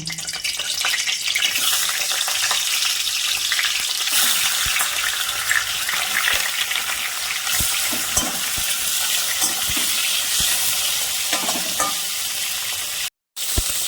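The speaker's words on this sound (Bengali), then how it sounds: "এবার আমি ইলিশ মাছের মাথাটাকে ভেজে নেব।" Hilsa fish head frying in mustard oil in a kadai, a steady, loud, close sizzle with faint stirring scrapes, running without talk until a brief dropout near the end.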